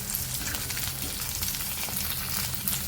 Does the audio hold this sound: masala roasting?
yes